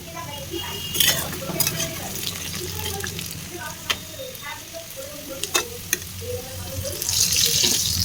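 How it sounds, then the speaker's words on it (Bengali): Potatoes fry in oil in a wok with a close, continuous sizzle broken by small popping bubbles and a few sharp utensil clicks, building louder toward the end. "এবার আলুগুলো ওই তেলে দিয়ে ভেজে নেই।"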